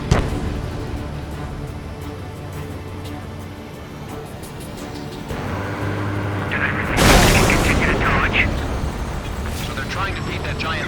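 A missile strike detonates at about seven seconds in Ace Combat 7, a loud broadband blast swelling over continuous jet and engine rumble, with a voice speaking in the background.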